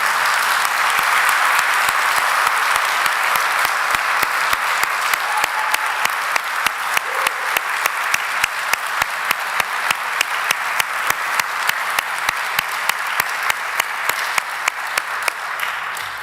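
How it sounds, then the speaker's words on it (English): Sustained, loud applause from a city Board of Aldermen meeting audience for lifeguards who saved a life, steady dense clapping throughout with no talking. "So let's give them a big round of applause"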